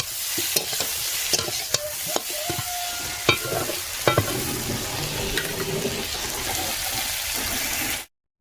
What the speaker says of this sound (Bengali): এদিকে কড়াইতে বসিয়ে দিয়েছি তেল। এদিকে কুশি ভাজাটা হচ্ছে।